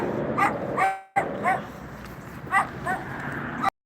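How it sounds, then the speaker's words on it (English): Several small dogs, mini dachshunds among them, give short yips and sharp barks in scattered bursts at close range, with a low background hum between the calls. "Look at these little dogs."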